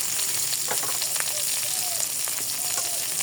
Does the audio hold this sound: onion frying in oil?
yes